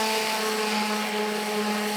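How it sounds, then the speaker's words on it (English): A palm sander rounds the edge of a wooden ring frame, giving a loud, steady, even whining hum without pauses. "So I just use the palm sander again."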